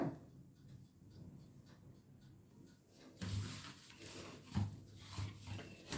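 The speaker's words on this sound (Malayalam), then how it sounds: "നന്നായി ഇളക്കി യോജിപ്പിക്കുക." Bakery-style biscuit dough being mixed by hand at home, a soft scraping and rubbing that is quiet at first, then grows louder and busier with a few sharper thumps in the second half.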